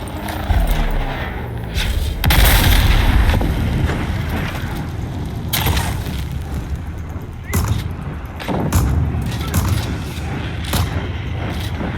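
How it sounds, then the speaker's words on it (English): A football grenade detonating in the Dune: Awakening video game, a loud booming burst amid surrounding gunfire and explosions, with several heavy impacts scattered through a dense, noisy combat mix. "I love that I can detonate the football grenade"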